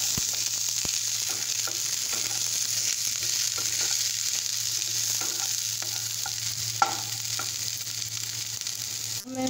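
Chopped onions and green chillies fry in hot oil for a vegetarian navratna dish, giving a steady, close sizzle with occasional stirring clicks and a low hum underneath, and no voices.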